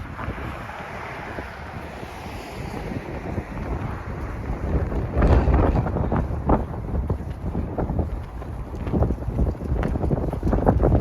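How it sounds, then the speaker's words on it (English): Fierce wind outdoors during a deep-freeze Toronto winter day, a steady heavy roar buffeting the microphone with rumbling low gusts that strengthen midway and keep pounding throughout, with no voices. "we hit some pretty fierce wind."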